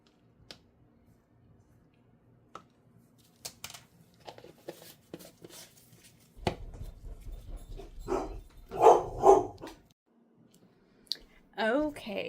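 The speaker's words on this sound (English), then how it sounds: "my dogs bark and bark and bark, and sometimes they don't shut up" Dogs bark at someone at the door, scattered clicks giving way to a few sharp barks in quick bursts, moderately close, with a person talking intermittently.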